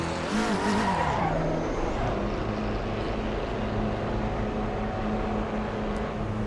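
Race car engine running laps in Assetto Corsa Competizione in VR, a steady near engine drone with shifting pitch throughout, a brief louder surge at the start, no talk.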